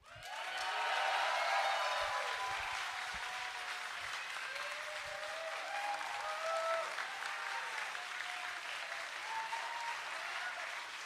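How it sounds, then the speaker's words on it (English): A large crowd at an awards ceremony applauds and cheers, a dense wash of clapping that swells at first and then holds steady, with scattered whoops above it. "everybody please give him a loud cheer"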